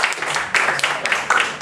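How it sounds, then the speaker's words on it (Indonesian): Audience applause in a seminar or talk setting: a short burst of many hands clapping at once, close and dense, with clapping surging in waves over about a second and a half. "Tepuk tangan buat yang benar dong"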